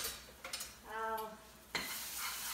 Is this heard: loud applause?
no